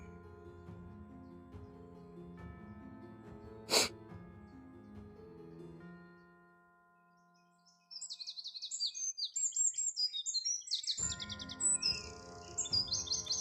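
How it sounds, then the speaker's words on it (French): Small birds chirp and tweet in a woodland, a quick run of bright repeated calls starting after a stretch of steady low humming, fairly close and alone without talk. "pour les oiseaux qu'on entend"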